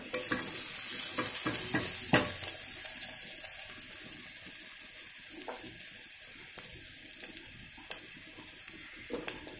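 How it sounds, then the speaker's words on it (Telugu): Coconut masala paste of ground coconut, dried red chillies and garlic fries and sizzles in a pan, a steady hiss with scattered stirring scrapes and clicks, loudest at the start and easing off. "వేగుతుంది కదా"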